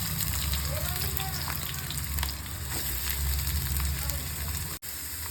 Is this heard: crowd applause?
no